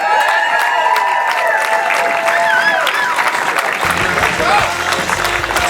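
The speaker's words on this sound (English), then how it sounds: "Another round of applause." A large crowd applauds and cheers steadily at the close of a speech honoring a man named Michael, dense clapping with whistles and voices rising throughout, a deeper rumble of shouts joining near the end.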